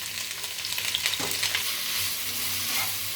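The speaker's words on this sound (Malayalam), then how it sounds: "നമുക്കിത് നല്ലപോലെ വഴറ്റാം." Four finely chopped medium onions sauté in hot oil for chicken curry, a steady crackling sizzle with a few brief stirring scrapes, close up.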